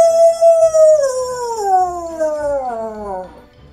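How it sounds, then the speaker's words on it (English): A long, wavering howl glides slowly downward in pitch, loud and drawn out over quiet low rumbling, fading toward the end. "you could hear a howl"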